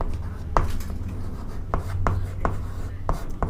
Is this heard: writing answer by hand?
yes